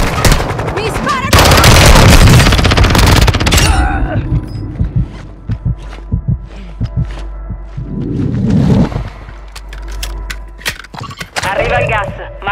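Rapid automatic gunfire from the game Call of Duty Warzone 2.0 rattles loud and close at first, then breaks into scattered single shots and cracks, with a game voice speaking between them.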